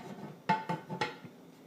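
A heavy lid settles onto a Lodge 12-quart cast iron Dutch oven holding simmering corned beef, landing as three quick close metallic clanks with a short ringing tone, followed by quiet.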